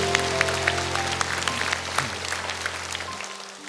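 A church congregation claps in praise during a worship service, a continuous wash of applause over sustained organ or keyboard tones that cut off near the end.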